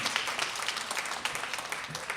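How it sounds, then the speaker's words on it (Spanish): Audience applause during a church or religious talk show gathering, a steady spread of clapping at a moderate, somewhat distant level with no voices on top. "¿Por qué no le da un fuerte aplauso al Señor?"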